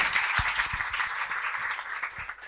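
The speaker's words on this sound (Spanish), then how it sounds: "Un aplauso." Audience applause after a talk at an online tutoring presentation, a steady wash of many hands clapping at moderate level with a few sharper individual claps standing out.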